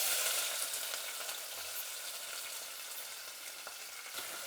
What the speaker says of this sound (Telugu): ఇప్పుడు ఆయిల్ వేడెక్కిందండి, ఆవాలు వేసుకుంటాము.